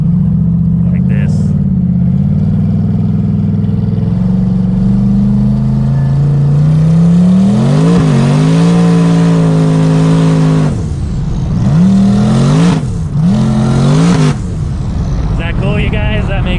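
Turbocharged 1000 whp BMW G8 revving hard with tires spinning, a loud sustained engine roar that rises and wavers in pitch through several surges, with brief voices talking over it.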